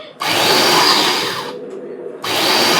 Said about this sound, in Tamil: இதை அரைப்போம்.